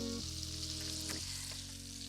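Butter melting with a generous glug of olive oil in a hot pan sizzles steadily and closely, a dense broadband crackle with a low steady hum underneath, no voices.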